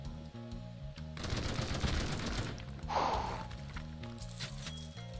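Rapid automatic gunfire from a health-siphoning vampire gun in the zombie shooter Zombieville 3D, a dense burst lasting a couple of seconds over steady looping game music, followed by a brief crashing hit.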